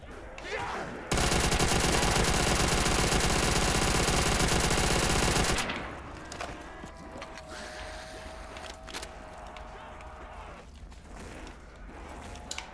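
An MG42 machine gun in Black Ops 3 custom zombies fires one long, loud, unbroken rapid burst of several seconds, then gives way to quieter game sounds and a voice speaking.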